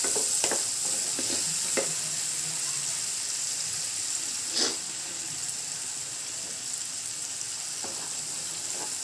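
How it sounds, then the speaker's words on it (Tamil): Onions sautéing in a pan for chicken chukka, with a steady broadband sizzle and a few short stirring scrapes of a spatula throughout; no talking. "நல்லா வதக்கிடுங்க வெங்காயத்தை."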